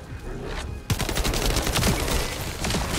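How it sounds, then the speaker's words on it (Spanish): Weapon fire in the video game The First Descendant: after a quiet opening, a sudden loud burst of rapid shots rattles on continuously, with other game sounds mixed in. "El sonido de los disparos"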